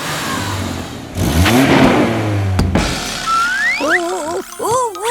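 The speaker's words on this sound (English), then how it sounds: "Let's have a nice loud rev." A cartoon excavator's engine revs loudly in a garage, with rising and falling whirring sweeps and mechanical bursts. Exaggerated sound-effect tones and swoops follow, with no speech.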